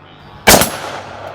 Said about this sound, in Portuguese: soltei um tiro bem no peito daquela coisa.